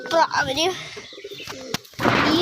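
Pigeons at an open coop give a few short, close coos mixed with chirpy calls, followed by brief knocks and a burst of rustling noise.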